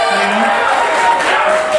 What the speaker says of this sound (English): Cheap applause.